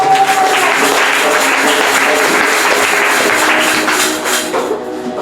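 A church congregation applauds and cheers during a French-language sermon, sustained dense clapping from many hands that swells steadily and then thins out toward the end.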